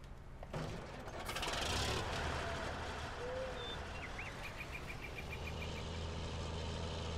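A tractor in Farming Simulator 19 idles steadily, a low continuous engine hum with a brief rise in noise early on, fairly quiet and unbroken.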